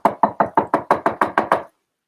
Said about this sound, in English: It was a knocking at the castle door.